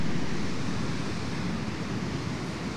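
Ocean surf at Venice Beach rolls in a steady, soft wash of waves, a continuous hiss with light wind and no voices.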